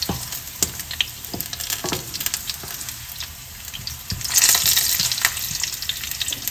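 Ginger sizzles in hot oil in a pan, a steady crackling fry with occasional stirring clinks and a brief louder hiss midway, close and alone.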